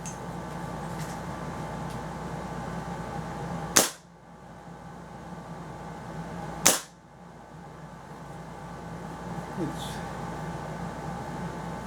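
A Springfield Armory M1 Carbine BB gun fires two sharp, loud cracks a few seconds apart against a quiet background, followed by a fainter click.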